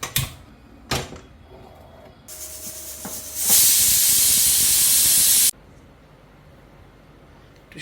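A pressure cooker holding soaked pigeon pea dal lets off a loud hissing blast of steam for about two seconds, preceded by a couple of sharp knocks and followed by quiet.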